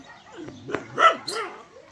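A dog barks a few times in quick succession, close and fairly loud, with short yelping calls between.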